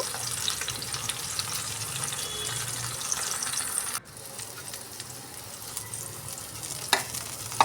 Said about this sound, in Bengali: তো আমি এইভাবে করে বেগুনগুলোকে ভেজে নেব